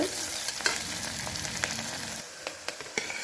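Onions frying in a pan for a tomato-based mattikaya pulusu, giving a steady close sizzle with light scraping stirs, and the frying noise eases slightly toward the end.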